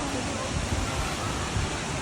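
Tangadan Falls rushes as a steady, broad roar of falling water, loud and constant throughout with no break.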